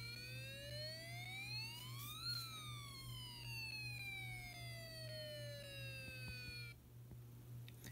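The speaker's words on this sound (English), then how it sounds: "the speaker will sound like a fire engine due to a 3-snap wire I put over here" A Snap Circuits Extreme SC-750 toy speaker, driven by a spun motor with a 3-snap wire bridging the circuit, produces a loud electronic fire engine siren: pitch sweeps rise then fall in a wailing glide over a steady low hum, with no talking.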